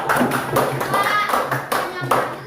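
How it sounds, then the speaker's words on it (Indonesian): A classroom of primary school pupils claps for a student after a correct answer, a short burst of rhythmic clapping with a voice over it. "Benar, tepuk tangan untuk Arisa"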